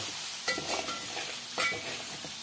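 Mushroom curry with salt and turmeric is stirred in a pan, with two quick scraping stirs over a soft continuous sizzle, close and moderately quiet.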